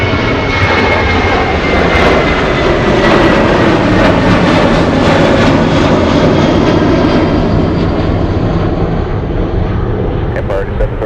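A jet aircraft roars loud and continuous at Anchorage airport, a broad steady engine rumble that fills the scene and slowly fades near the end, with a voice talking over it.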